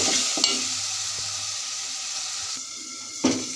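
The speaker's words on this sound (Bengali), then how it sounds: "এগুলো এখন আমি ভালো করে কষিয়ে নিব" Spices and onion paste fry in a pan while being stirred, with a steady sizzling hiss and occasional scraping clicks of a utensil, close and continuous, with no talking.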